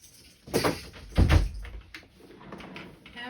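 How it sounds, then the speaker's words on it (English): A door is pushed shut indoors, giving a soft slide and then a dull thud, followed by faint room noise. "I'm gonna shut the door."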